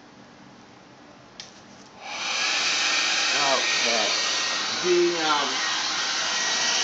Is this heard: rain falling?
no